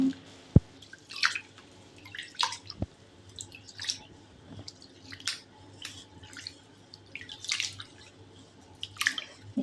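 Rice is rinsed in water in a home kitchen, with scattered drips, small splashes and wet squishing sounds coming in irregular bursts close by, no talk.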